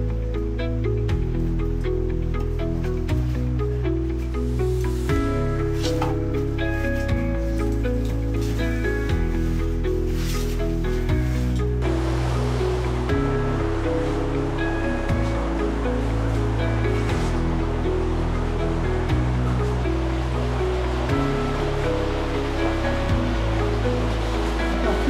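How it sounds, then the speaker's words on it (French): Steady rushing water roars continuously and loudly, a dense wash of an underground river flowing inside Grotta di Su Palu cave in Sardinia, with a hollow, enclosed quality and no pauses. "Et on entend bien la rivière."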